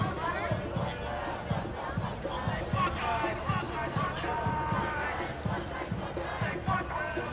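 An anti-ICE street protest crowd chants in a steady rhythmic call, with shouting voices and a repeated thumping beat, moderately loud and sustained throughout.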